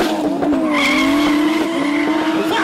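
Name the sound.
drag racing cars with burning tyres at quarter-mile event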